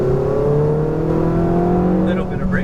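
Ferrari 488 GTB on a coned track course, its engine note rising steadily as the throttle is squeezed out of a turn, loud and close, with a short burst of higher-pitched noise near the end.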